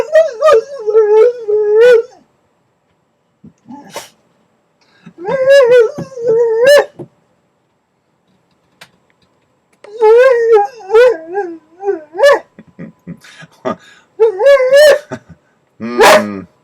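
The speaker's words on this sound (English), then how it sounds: "What are you barking at your daddy for?" A dog barks, yips and whimpers in several close, loud bursts of high whining cries and sharp barks, with silent pauses between the bursts.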